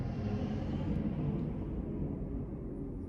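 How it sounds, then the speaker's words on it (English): A loud dump truck rolling past, a steady low rumble that fills the whole stretch and slowly fades in its upper hiss toward the end, with no talk. "dump trucks be loud"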